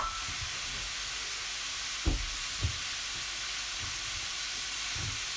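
Pork rind and carrots sizzle in a pan for cassoulet, a steady broad hiss of frying throughout with a few soft clunks of utensils, close and constant.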